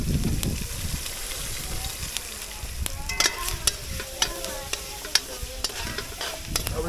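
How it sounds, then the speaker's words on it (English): Shrimp stir-fried with turmeric in oil over an outdoor cooking setup in Kingston, Jamaica, giving a continuous sizzle with scattered sharp pops and spatters, close and steady throughout. "Stir fry in the oil don't make it get spoiled."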